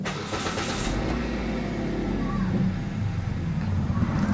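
The engine of a 2011 Kia Picanto automatic starts with a brief crank, then settles into a close, steady idle with a low, continuous rumble.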